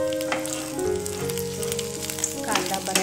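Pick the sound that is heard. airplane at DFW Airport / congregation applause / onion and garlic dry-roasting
onion and garlic dry-roasting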